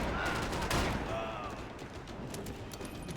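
Dense video game gunfire in Max Payne 3, a loud burst of rapid shots followed by sustained crackling fire and echoing reports, under continuous game noise.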